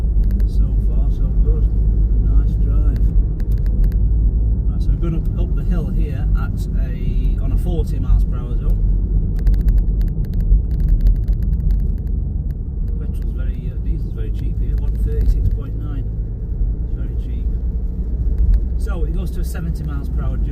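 A 2015 Land Rover Range Rover Evoque 2.2 SD4 diesel automatic with 86k miles climbs a hill, its engine giving a steady low drone and road rumble heard from inside the cabin, with no speech over it.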